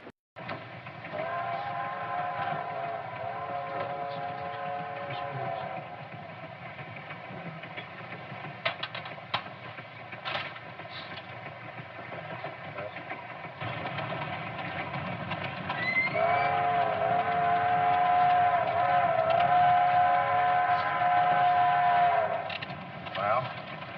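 A train runs steadily with a clattering rumble, and a long steam-style whistle sounds twice, once early and again louder toward the end, in a 1941 film with no talk.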